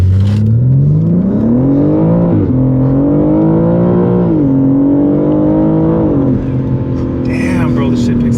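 A modified BMW G80 M3 pulls hard under acceleration, engine note climbing in repeated sweeping surges with a faint intake whoosh, heard from inside the cabin over steady road and engine drone.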